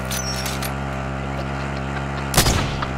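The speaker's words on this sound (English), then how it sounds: "They're shooting at him!" Video game gunfire during a plunder match: a few sharp shots early on, then a louder burst near the end, over a steady background hum with voices in the background.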